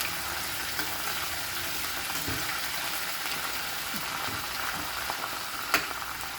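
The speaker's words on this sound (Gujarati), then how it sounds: "લસણનો કલર થોડોક બદલાઈ જાય ત્યાં સુધી આપણે મિક્સ કરવાનું છે." Chili paste and garlic fry in a pan for a spinach and lentil curry, making a soft, even sizzle with occasional stirring scrapes and one sharper clink near the end.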